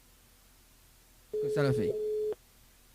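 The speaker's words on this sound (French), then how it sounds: "Ah ben voilà, il sonne." A single steady telephone tone sounds on a call during a morning radio show, holding for about a second, with talk from the host over it.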